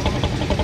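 A boat's engine runs as it leaves Mongla port, giving a brief, steady, close mechanical drone with a faint pulsing throb.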